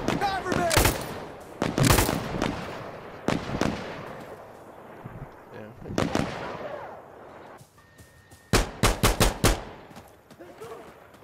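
Gunfire in Insurgency: Sandstorm: scattered sharp single shots and short bursts ring out, ending in a quick rapid volley, with a voice talking between the shots and faint battlefield ambience underneath.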